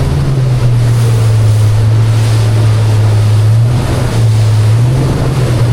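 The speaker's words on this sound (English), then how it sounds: "You can see I'm kind of caught in a set of breaking waves right now" A 23-foot Albury Brothers motorboat runs through a set of breaking ocean waves in rough weather, its engine droning loud and steady beneath constant rushing surf and wind buffeting the microphone.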